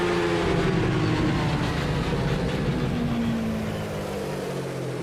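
Modded race car engine in the Automobilista 2 sim, a loud sustained engine note sweeping steadily downward through the rev range as it slows, harsh and continuous with no speech.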